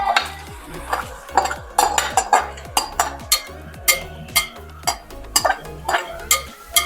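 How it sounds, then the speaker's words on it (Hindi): Marinated chicken for biryani is stirred in a cooking pot, a spoon clanking against the metal in a quick, regular rhythm of close, sharp knocks and scrapes over a soft background hiss. "इसके बाद जो चिकन को हमने मैरिनेट करके रख दिया था इसके अंदर ऐड कर देंगे।"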